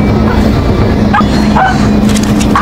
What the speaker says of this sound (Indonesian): menggonggong ke arah sofa.